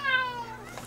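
A cat on a live cat camera feed gives one clear, close meow that slides downward in pitch over about a second.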